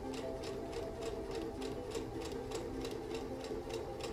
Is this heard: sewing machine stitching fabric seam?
yes